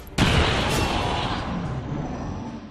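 A grenade goes off in XCOM 2, a sudden loud blast followed by a long rumbling tail that fades slowly.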